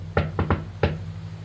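Four firm knocks on a door, close and distinct in an uneven pattern, two spaced, then a quick pair, then one more, over a low steady hum.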